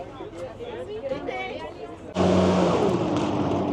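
A blue and yellow tuk-tuk on Gozo, Malta, sits under a murmur of voices before its engine abruptly kicks in loud and close, then drones steadily as it pulls away.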